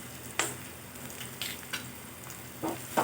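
Green chilli chivda ingredients with coriander and a little turmeric sautéed in a pan, a soft low sizzle under repeated brief scraping stirs at irregular intervals, close but fairly quiet, no talking.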